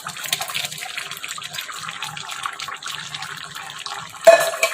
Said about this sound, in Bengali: এই যে টকবক করে ফুটেছে